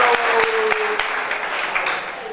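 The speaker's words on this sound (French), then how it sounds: "On va applaudir plus." Applause from a conference audience with a few sharp, distinct claps standing out over a broader crowd clapping that fades gradually, with a faint voice briefly audible underneath.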